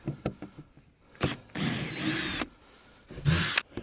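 A power drill backs screws out of the wooden top of a wood duck box, with short whirring bursts separated by pauses and small clicks, close and moderately loud.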